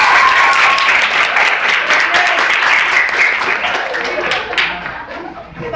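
Lively audience applause before a Filipino comedy performance, loud sustained clapping with scattered chuckles and chatter, tapering slightly toward the end.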